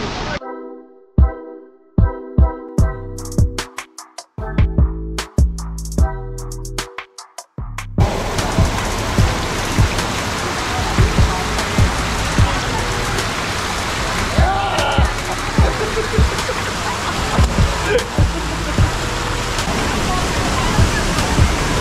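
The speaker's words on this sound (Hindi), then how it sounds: "स्टेक्स के ऊपर पे पानी फ्लो हो रहा है" Monsoon runoff pours over stone steps at Kanheri Caves, a loud, steady rushing wash that fills the later part after a shorter opening stretch of sparse clicks and tones.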